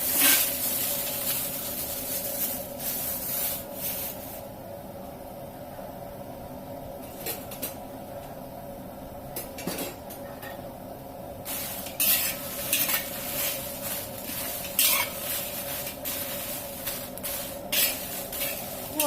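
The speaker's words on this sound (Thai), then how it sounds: "เราก็จะมาคั่วพริกกันนะคะ" Chilies dry-roast in a pan, stirred steadily by hand: repeated scraping and rattling strokes with a light hiss, close and fairly quiet, with no talk.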